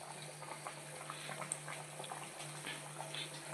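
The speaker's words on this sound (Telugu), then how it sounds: "ఇప్పుడు మరిగింది కదండి" Fish curry in a pot bubbling at a steady simmer, a dense continuous hiss of small bursting bubbles with faint pops, heard close and alone with no talk.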